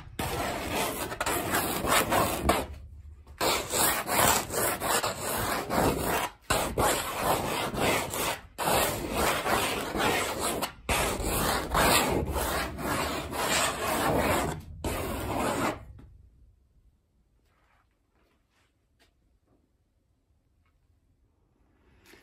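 Paint is brushed onto a painting in continuous scratchy, rasping strokes with brief pauses. The strokes run close and steady for about sixteen seconds, then fall to near silence.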